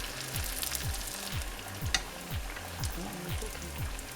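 Egg rolls deep frying in hot oil, a dense continuous bubbling sizzle with steady crackle throughout, close and fairly loud, with a faint voice in the background.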